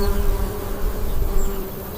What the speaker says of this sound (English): The bee, a fat, fuzzy ambassador from the past, was the first sign.